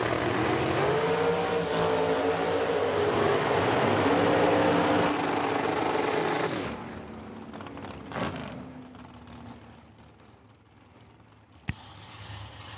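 Drag race cars launching side by side down a racetrack at the Oil City Classic in Edmonton, a loud sustained engine roar that rises in pitch, then cuts out and fades to quiet with a faint later burst.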